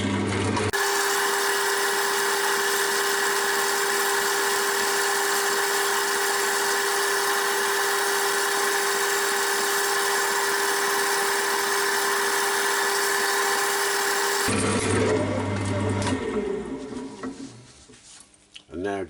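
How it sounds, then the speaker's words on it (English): A wood lathe spins at higher revs while a small turned bud vase is finished, giving a steady, loud mechanical whine that holds for about fourteen seconds before the motor winds down. "just spin the lathe up at its lowest revs for a minute or two and work that in"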